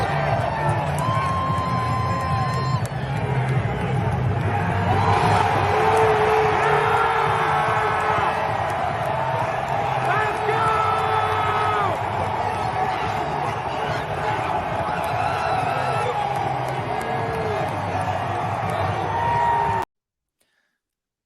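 A packed stadium crowd at a Titans divisional playoff game against the Bengals roars continuously as Derrick Henry is announced coming out of the tunnel, a sustained, dense wall of cheering and yelling for about twenty seconds before cutting off.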